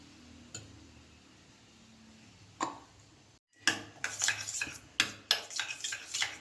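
Fresh cream and condensed milk being mixed together for a bread custard pudding: a quiet stretch with a few isolated clinks, then a quick run of close spoon strokes scraping and tapping against the bowl.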